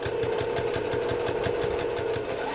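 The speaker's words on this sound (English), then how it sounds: "I'm just going to sew down 1/4 inch right down that seam there." A sewing machine runs steadily while stitching a quarter-inch seam through several layers of a pillowcase, giving a fast, even mechanical rattle with a constant motor hum, close and continuous.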